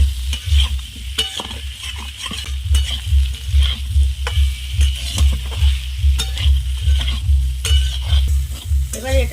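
Spices being stirred into potato and paneer in a hot pan, a steady rhythmic scraping and stirring over a continuous close sizzle of frying, with repeated spoon strokes throughout and no talking.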